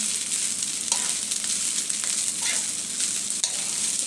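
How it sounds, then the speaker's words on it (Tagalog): Garlic fried rice with egg sizzling in a pan, a dense steady hiss with a few soft scrapes of stirring, close and continuous. "Nagsasangag ako ng kanin nila."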